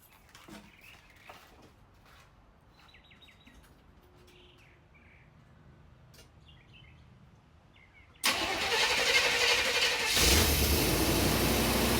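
A swapped engine in a 1988 OBS truck cranks briefly and then fires up loud and close, running as a steady roar to the end after a quieter stretch with faint birdsong in the background.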